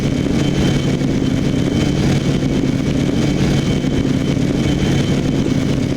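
Simulated ME262 fighter jet engines in BeamNG.drive produce a steady, dense roar that holds level throughout without pauses or spoken words.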